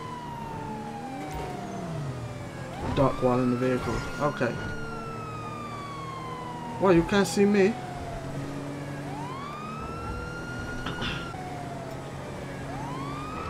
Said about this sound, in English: Will they stay out of my way if I bust the sirens all the way?